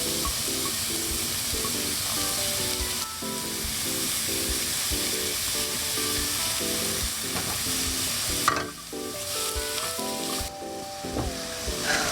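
Onions, garlic and ginger fry in hot oil for the Filipino dish pares, a loud, continuous close-up sizzle with steady stirring throughout and occasional brief clanks and scrapes.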